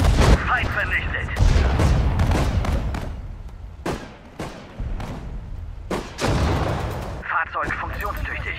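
Artillery cannons fire in the World War II strategy game Sudden Strike 4 at the Battle of Stalingrad: a series of heavy booms and sharp gunshot cracks, irregularly spaced and loud, mixed with battlefield clatter and game voice callouts.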